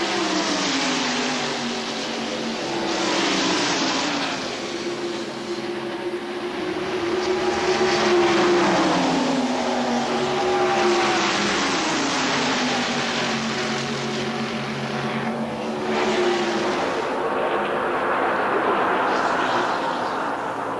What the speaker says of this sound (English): Lead draft with Wallace, Earnhardt, Martin, Spencer, and